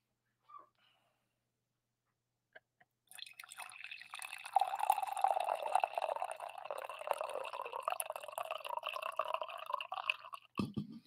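Hot coffee poured into a mug, starting after a few quiet seconds as a steady close splashing stream that rises in pitch as the mug fills, ending with a brief knock.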